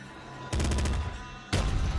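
Rapid bursts of gunfire from the top-down shooter Nuclear Throne, two loud clusters of quick repeated shots about a second apart, close and punchy with no talk.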